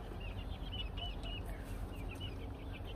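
Chickens cluck steadily in a backyard vegetable garden, with about twenty birds in a hot outdoor setting; repeated short clucks sit over a constant low rumble, no talking.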